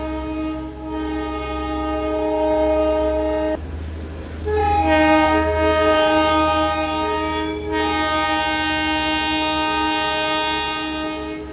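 A passing toy train in Kurseong rumbles along while its horn sounds in long, loud blasts, breaking off briefly mid-way before resuming.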